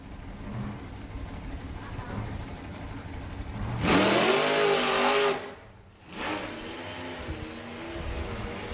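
1948 Austin pickup launches at full throttle at a drag strip, its engine roaring loudly for about a second and a half before dropping away, with more engine noise from the track continuing.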